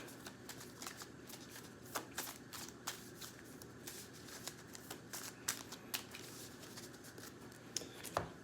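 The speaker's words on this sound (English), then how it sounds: "shuffle our deck" A deck of game cards being shuffled at a table, giving repeated soft riffling and snapping bursts at a steady pace with no talking.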